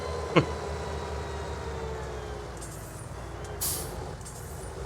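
A truck's air brakes hiss briefly in the Farming Simulator video game, a sharp short release near the start and a softer hiss later, over a steady engine drone.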